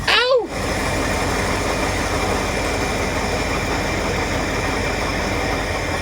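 A 1977 Ford F600 truck engine idles roughly on only three of its cylinders, a loud, close, steady rumble with a lumpy uneven beat, after a brief sharp vocal cry at the very start.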